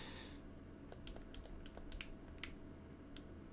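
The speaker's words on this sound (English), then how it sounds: "But it's some sort of mechanical keyboard." Typing on a Das Keyboard mechanical keyboard: a quiet stream of crisp, irregular key clicks, fairly close, over a faint steady background hum.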